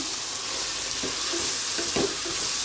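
Tomatoes for crab masala sauté in a hot pan with a dense, steady sizzle throughout, broken by a few soft scrapes as the spoon stirs them.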